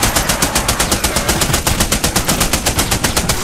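Rapid automatic fire from a turret in a video game set in a secret facility, a steady stream of evenly spaced loud shots hammering on without pause.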